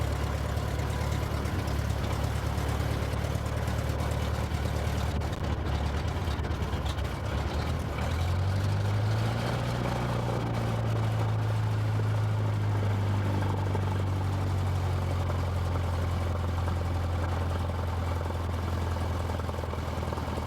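A small airplane's piston engine and propeller drone steadily while taxiing, a loud continuous low rumble that rises in pitch partway through as the engine speeds up, then holds.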